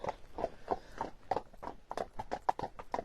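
Horses walking toward the listener, hooves clip-clopping in an uneven, steady rhythm of close, moderately loud hoofbeats.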